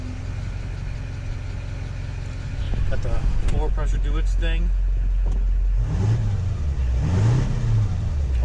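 A Duramax diesel truck engine with about a million miles on it idles steadily after an oil change, a constant low rumble with a brief rev, while someone talks over it.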